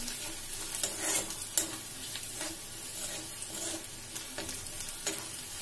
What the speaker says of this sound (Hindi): इसके बाद वैसे ये दो तीन मिनट तक इसको फ्राई कर लूंगी